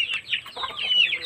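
Young chicks about a month old pecking at ripe papaya, with short high cheeps and clucks close by in a quick, irregular string.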